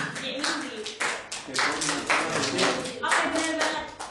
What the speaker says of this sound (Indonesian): tepuk tangan untuk Indi